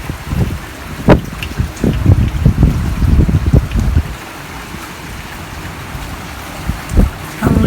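Strong, cold, rainy wind in Canada buffets loudly against the microphone in gusty rumbles, easing briefly before another gust near the end.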